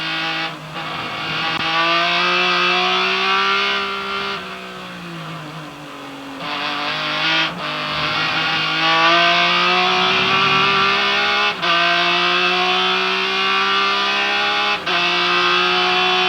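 A 2003 Speed GT race car's engine at Sebring International Speedway, heard on board as a loud continuous roar that climbs and dips in pitch with gentle throttle changes, with a few brief sharp cuts at shifts.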